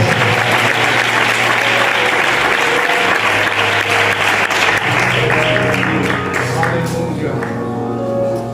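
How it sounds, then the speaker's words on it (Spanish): Sustained loud applause from a church congregation fills the room, steady clapping throughout with some voices mixed in. "Un fuerte aplauso y la palabra con todos vosotros."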